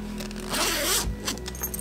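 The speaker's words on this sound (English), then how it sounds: "I do have the one with the zipper" An L.L.Bean Boat and Tote bag zipper pulled open in one steady drag, a rasping scrape that swells in the middle and tapers off, close up.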